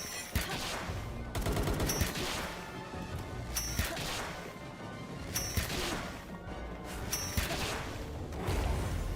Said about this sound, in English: And he's shooting mud.